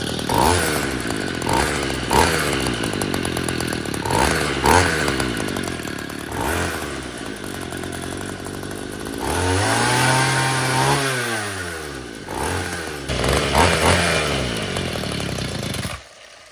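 A two-stroke string trimmer engine pulled to start, several short sputtering cranks followed by the motor catching and running with revs rising and falling, close and loud.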